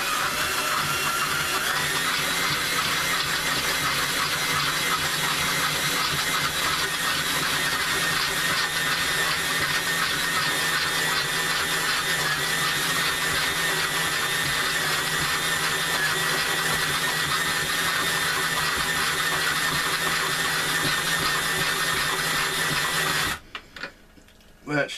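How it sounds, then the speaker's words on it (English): A power drill boring into magnesium whines steadily for a long stretch, grinding under heavy pressure without a break, then cuts off abruptly near the end. "You got to put a pretty good amount of pressure on the drill and to really get it to bite in"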